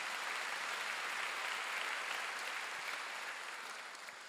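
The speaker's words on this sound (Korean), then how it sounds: "박수 주시기 바랍니다." A congregation at a Korean church's Wednesday worship service applauds in a steady, dense burst that fills the whole stretch and tapers slightly at the end, with no talking.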